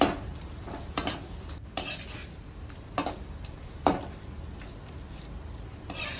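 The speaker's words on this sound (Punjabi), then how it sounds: "ਮੈਗੀ ਮਸਾਲਾ ਤੜਕੇ ਦੇ ਵਿੱਚ ਇਹਨਾਂ ਨੂੰ ਚੰਗੀ ਤਰ੍ਹਾਂ ਮਿਲਾਉਣਾ ਹੈ" A spoon stirs and scrapes through Maggi masala and red chilli tadka in a pan, with several sharp scraping strokes over a soft, steady sizzle, close and without speech.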